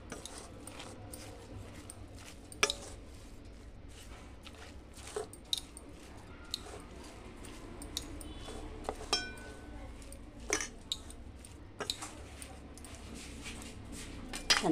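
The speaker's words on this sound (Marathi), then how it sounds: "कांदा घालून घेणार आहे. आणि मिक्स करून घेणार आहे मी." Onion and salt are stirred together in a bowl while cooking, giving soft, quiet squishing and scraping with occasional sharp clinks of a utensil against the bowl, faint and close, with low background noise.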